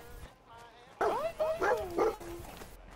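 Dogmeat, the dog in Fallout 4, barks in a quick run of three or four sharp, close barks, preceded by a fainter whining tone.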